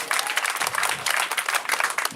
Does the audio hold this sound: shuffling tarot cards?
no